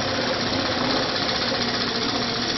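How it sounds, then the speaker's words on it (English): A quilting machine stitches at slow speed, a dense continuous mechanical whir and rapid needle chatter running without pause. "I'm stitching on the slow rather than the medium just to make sure it hasn't really broke any threads yet"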